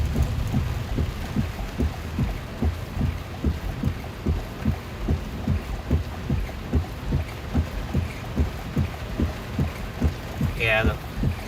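Rain patters on a car windshield during a thunderstorm in North Texas, with a steady rhythmic thumping, likely the wipers, repeating under the constant hiss of rain, close and fairly loud.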